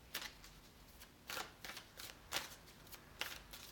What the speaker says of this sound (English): I'm just shuffling the Oracle cards